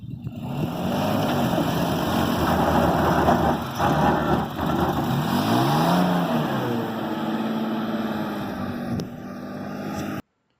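Toyota Tacoma TRD engine revving hard in four-wheel low with A-TRAC traction control engaged while stuck off-road; a loud, steady drone with rising and falling pitch sweeps, close and continuous for about ten seconds before cutting off.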